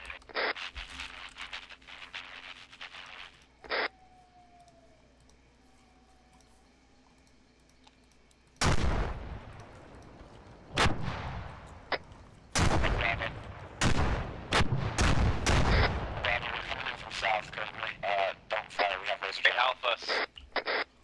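Distant and nearby explosions and gunfire in the military video game Arma, sharp booms and cracks arriving in irregular bursts after a quiet stretch with radio chatter and voices.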